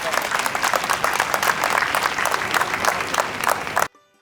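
Loud, dense audience applause at a public event in Bhusawal honouring Ahilyadevi, steady clapping throughout before cutting off abruptly near the end.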